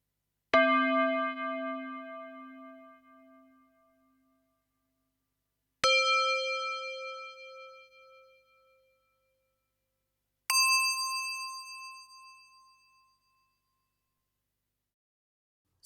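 Three bell tones from a Yamaha DX7 FM synthesizer tube bells patch, each pitched higher than the last, every one with a sharp, solid metallic attack and a long shimmering ring that fades to silence before the next strike.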